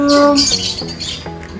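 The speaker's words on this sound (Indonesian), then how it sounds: "ini nih primadonanya nih, si burung beo. Dia bisa ngomong" A hill myna at a zoo in Lembang gives a loud, harsh squawk, close and ringing for under a second, then a few short rougher calls with some faint background murmur.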